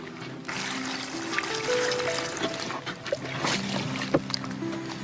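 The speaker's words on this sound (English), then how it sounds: "Now we'll just put the water in the" Water pours and trickles steadily into a crinkling plastic bag, close by, with small splashes and drips along the way.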